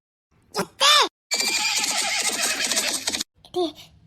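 Horse whinnies twice in short, loud, high-pitched bursts, with a busy stretch of mixed sound between them and a brief further cry near the end.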